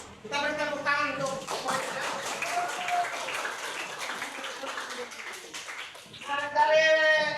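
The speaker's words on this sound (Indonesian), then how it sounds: "Kita beri tepuk tangan untuk" Students clapping in a classroom, a rapid patter of many hands between stretches of a voice speaking at the start and end, the clapping fairly close and moderately loud.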